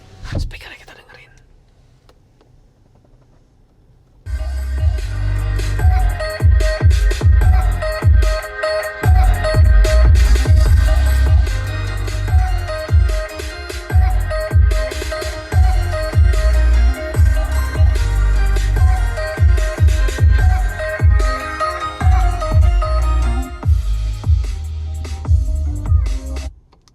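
Music playing through the AION UT electric car's cabin speakers: quiet at first, then a full, steady track with strong bass and rhythmic beats that continues loudly to the end.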